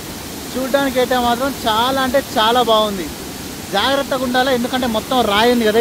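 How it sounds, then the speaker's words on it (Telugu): A waterfall roars in the rain over slippery rocky ground, a steady broadband rush that runs beneath someone talking near the microphone for the whole stretch. "ఈ వాటర్ ఫాల్స్ ఈ సౌండ్ ఘోరంగా వస్తుంది."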